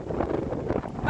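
Strong wind on Bloubergstrand beach in Cape Town buffeting the microphone, a steady loud roaring rumble across a brief moment with no clear speech.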